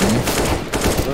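Rapid gunfire in a shooter video game rattles through a dense, busy mix, loud and continuous across the whole moment with no clear pauses.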